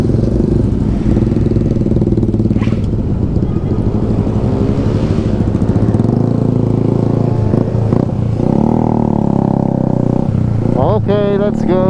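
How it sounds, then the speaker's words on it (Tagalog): Motorcycle with its silencer removed, on a night group ride among scooters and small bikes, rumbling loudly and steadily throughout with the engine rising in pitch near the end, while people talk over it. "Tinanggal namin yung silencer ng motor ni Kuya Arden. Ang ingay."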